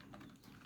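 Rapid clattering keystrokes on a computer keyboard while entering text into Microsoft Office Word 2007, a steady close run of taps with no voices.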